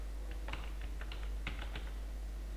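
Someone typing Java code on a computer keyboard, a close, steady run of quick key clicks with small pauses over a constant low hum.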